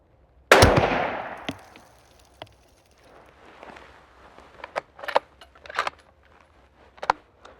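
A Remington 700 SPS Varmint rifle fires Federal 175 grain Gold Medal Match ammunition. One sharp, loud shot rings out and decays quickly, then come quieter clicks and handling noises.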